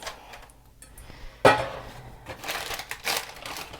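Oat crumble mixture for strawberry bars tipped into a baking pan, a sudden crumbly thud followed by scattered rustling and scraping as the loose mixture settles.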